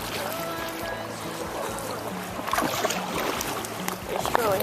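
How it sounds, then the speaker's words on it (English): A boat is paddled on a clear blue lake near Tahoe, with soft water sloshing and paddle splashes near at hand, under wind noise and low voices of people talking. "We kind of paddle out to like these really big rocks."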